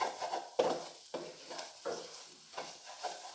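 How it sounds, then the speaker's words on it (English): A spoon stirs masala with two chopped green chillies in a pan for a mutton gravy, making repeated scraping strokes in an uneven rhythm over a soft sizzle, close and fairly quiet with no talking. "Add 2 chopped green chilli. Mix it well."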